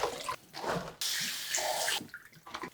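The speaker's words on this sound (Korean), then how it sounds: "깨끗하게 헹궈보도록 하겠습니다." Napa cabbage rinsed under a running kitchen tap after soaking in produce wash, a steady rushing stream of water that starts and stops a few times, close and alone.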